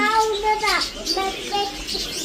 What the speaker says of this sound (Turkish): Ay, bir sürü kuşlar.